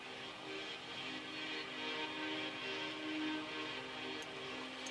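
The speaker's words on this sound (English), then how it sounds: "And the other atmospheric pad sounds like this." A quiet airy synth pad from an electronic track, a hazy sustained texture with a soft hiss-like top layer holding steady throughout, alone and low in level.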